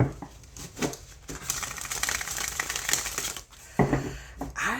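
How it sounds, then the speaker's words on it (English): A deck of tarot cards being shuffled, a dense riffling patter lasting a couple of seconds, then a few shorter shuffles and card taps close by. "Let's give it a little shuffle."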